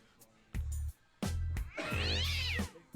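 A cat meows several times within a music track, long drawn-out wailing calls with short pauses between them, loud and close, with no talking over them.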